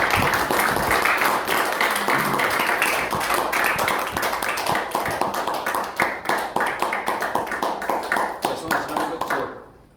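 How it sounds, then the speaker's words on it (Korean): A forum audience gives sustained, loud applause to welcome a lecturing lawmaker, the dense clapping thinning toward the end into distinct individual claps before cutting off. "큰 박수로 환영해 주시기 바랍니다"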